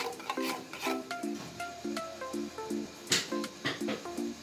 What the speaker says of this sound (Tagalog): bali haluin muna natin ng bahagya